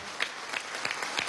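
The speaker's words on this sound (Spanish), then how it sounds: "Vamos a dar un sonoro aplauso a este gran venezolano" An indoor audience applauds at an official welcome ceremony in the Simón Bolívar hall at PDVSA headquarters, a brief, steady patter of clapping at moderate distance.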